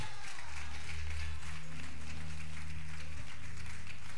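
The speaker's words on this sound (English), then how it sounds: "Let's give God a hand clap of praise" Congregation hand clapping in praise at a bishop's consecration service: a dense, continuous roar of many hands clapping together over a low organ-like hum, loud and sustained throughout.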